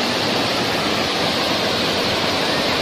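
A constant, dense roar of falling water at the Roro Kuning waterfall, loud and unbroken; no voices.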